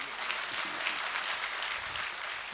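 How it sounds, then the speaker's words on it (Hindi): Faint, distant applause fills the Aiwan-e-Ghalib Auditorium in New Delhi during a mushaira poetry gathering, a soft, uniform patter of many hands that continues evenly. "एक बार कम से कम तालियां तो बजाइए।"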